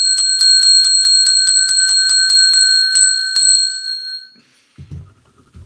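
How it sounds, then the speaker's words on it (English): A bright ringing bell is struck about ten times in a quick, even series, each ring clear and loud with a lingering metallic tone that fades out after the last strike. "we got to ring the bell 10 times"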